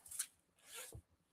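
A zipper on the side of a pair of golf pants gives two quick, faint rasping pulls close by, with no talking over them.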